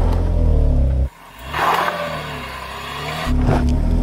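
Engine of an SUV, a BMW X3 M or Porsche Macan GTS, pulling up a steep off-road slope, loud and steady with throttle held even, dipping briefly before surging again.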